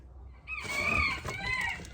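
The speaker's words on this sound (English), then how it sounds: "Boy, them chickens is wound up" A nearby chicken lets out a drawn-out, squawking call lasting over a second, rising from a quiet background; no talking.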